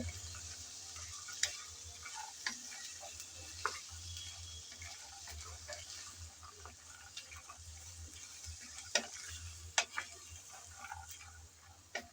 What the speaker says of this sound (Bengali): আলু আর মটরশুঁটি ভালোভাবে একটু তেলের মধ্যে ভেজে নিতে হবে